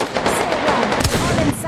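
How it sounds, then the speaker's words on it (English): Rapid gunfire in a competitive shooter video game, a dense burst of loud, close shots running continuously with game sounds mixed in. "Shot fired."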